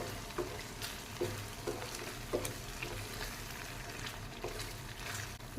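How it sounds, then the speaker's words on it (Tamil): Tomato-tamarind paste sautés in oil in a pan for Andhra-style tomato pickle, a soft continuous sizzle broken by regular scraping stirs about every second. "இப்போ இதில் இந்த எண்ணெயிலே வந்து இது கொஞ்சம் வதங்கி சுருண்டு வரணும்."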